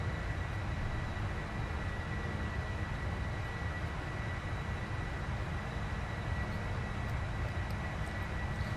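Boeing 747 jet engines in the Prepar3d flight simulator, a Polar Air Cargo flight climbing out with flaps up, give a steady, loud broadband roar with a low rumble and a faint high whine throughout.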